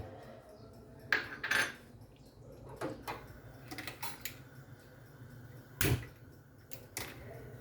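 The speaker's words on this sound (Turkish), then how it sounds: "Önce yağımı tencereme alıyorum." Metal pot and utensil clinks and knocks come in scattered bursts as cooking oil is added to a pot, with a few sharper clangs against faint kitchen background noise. No voices.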